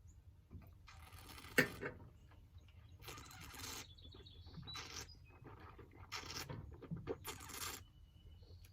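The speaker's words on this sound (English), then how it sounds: "By adding air into my mouth and sucking backwards, I not only coat my entire palate to reach all my flavor receptors in my tongue" Someone slurps Malfy Con Rosso Italian pink gin while drawing air into the mouth, producing several short, hissy, breathy sucking bursts close to the microphone at uneven intervals over quiet room noise.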